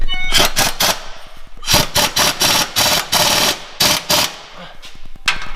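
Bursts of a power tool ratchet loudly in repeated short pulses while tightening MBRP aftermarket exhaust bolts on a Toyota Tacoma, stopping and restarting with brief gaps between runs.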